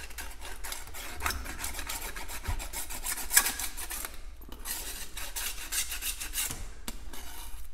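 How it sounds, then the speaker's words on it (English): Light chiseling along the edge of a spray paint art piece gives a steady, close scraping and rasping texture lasting throughout, with one sharper scrape near the middle and no talking. "I'm gonna basically very lightly chisel the edge of this"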